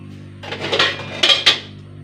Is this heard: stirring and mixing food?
yes